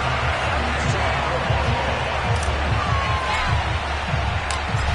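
A sold-out stadium crowd roars continuously in the Madden 22 football game ahead of a Patriots versus Bills matchup, a dense, loud wash of crowd noise running beneath a commentator's voice.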